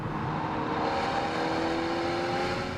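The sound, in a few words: Mercedes CLA small engine car driving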